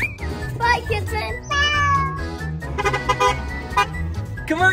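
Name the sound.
kitten meowing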